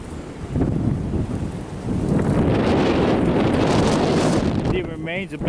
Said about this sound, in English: Oh, it's getting windy out.